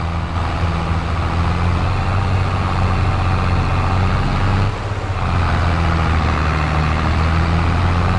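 A tractor engine in Farming Simulator 22 drones loudly and continuously with a heavy low-pitched rumble, dipping briefly just before the five-second mark before resuming at steady load.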